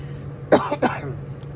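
Two short, close coughs in quick succession, with a low steady hum underneath.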